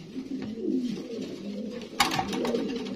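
A female shoking pigeon coos in soft, low repeated calls close by, with a sharper rustle or flutter near the end.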